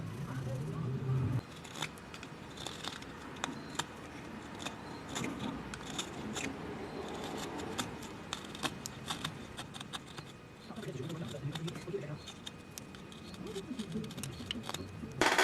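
Steady scratchy cutting and rasping on a 1/8 inch Lexan polycarbonate lure lip as the corner chamfers are trimmed off, close and fairly quiet, with irregular clicks and scrapes throughout.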